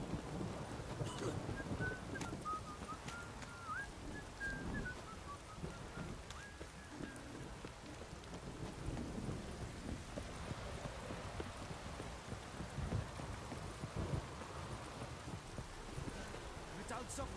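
Steady rain pours during a thunderstorm in The Witcher 3, a dense continuous wash with low rumbling underneath, while a horse's hooves clop along and a voice talks over it.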